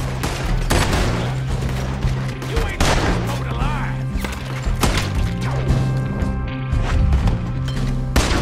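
Gunfire in the video game Red Dead Redemption 2, a loud rapid string of shots and impacts with hoof clatter and game sounds, and speech mixed in.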